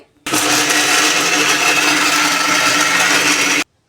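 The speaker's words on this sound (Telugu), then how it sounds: "ఇప్పుడు దీన్ని మిక్సీ పట్టుకోవాలి" A mixer grinder whirs loudly and steadily, pulverising chili powder with peeled garlic cloves for a carrot tempering dish; the dense motor roar starts abruptly and runs unbroken for about three seconds before cutting off.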